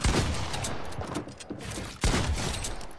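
Shotgun blasts in a video game fire in rapid spam, booming shots repeating with short gaps, loud and close, with a heavy blast near the end.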